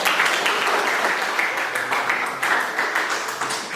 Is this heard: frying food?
no